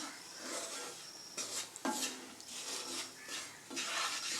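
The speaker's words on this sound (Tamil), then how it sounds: "இப்போ இதே நல்லா இதில் வறுத்து எடுத்துக்கலாம் அடுப்பை சிம்மில் வச்சே தான் நம்ம அதை நல்லா கலந்துக்கணும்" Semolina and wheat flour are stirred and roasted in a pan over low heat, giving soft repeated scraping and rasping strokes, faint and close, with no voices.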